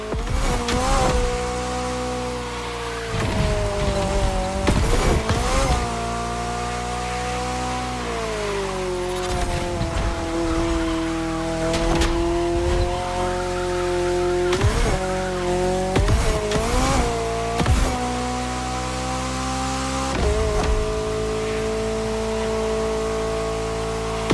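An open-top McLaren car in the racing game The Crew Motorfest roars through a drive, its engine note rising and falling with gear changes while tires squeal repeatedly through corners, loud and close throughout.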